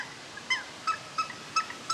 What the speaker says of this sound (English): Some Hawaiian geese, aka Nene